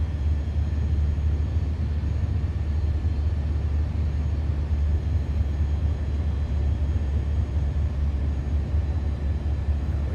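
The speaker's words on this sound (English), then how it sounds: "You can hear the wind noise start to come up." Low, steady roar of wind and engine drone inside an Airbus A400M Atlas with gear down on final approach in Microsoft Flight Simulator 2024, a constant dense rumble with no voices.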